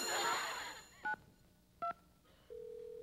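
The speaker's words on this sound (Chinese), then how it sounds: "该郑国成打电话来。" A telephone keypad is dialed during a Taiwanese TV variety show. After a burst of noisy background, two short, clean DTMF tone beeps sound a moment apart, followed by a steady, continuous line tone.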